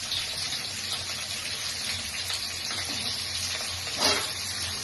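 Chillies sizzle steadily in a hot pan for a Bengali rohu fish curry with drumsticks and potato, a continuous close frying hiss with a brief louder splutter near the end.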